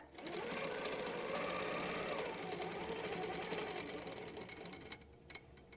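A Handi Quilter quilting machine stitches a curve along a ruler, its steady rapid hum running loud and continuous before easing slightly near the end.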